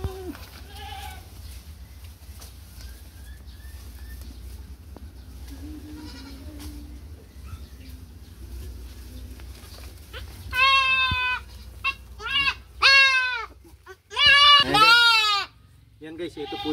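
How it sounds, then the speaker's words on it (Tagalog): Young goats on a Philippine farm bleat, quiet at first, then several loud, wavering cries come in quick bursts near the end, with a person talking in the background. "Ito po yung kambing natin na ulila."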